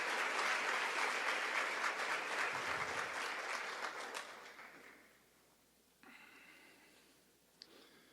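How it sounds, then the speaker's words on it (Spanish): Audience applause at a logistics conference, a loud, dense burst of clapping from the crowd that thins and fades away after about four seconds, leaving quiet room tone with faint noises. "Y un aplauso para todos los que intentan hacerlo bien."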